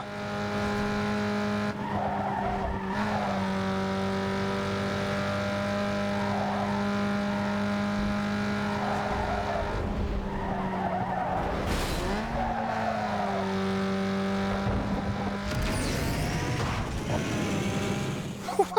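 A Toyota Corolla races in Need for Speed Underground 2, its engine droning loud and steady with repeated tire squeals and skids through corners, shifting pitch as it accelerates.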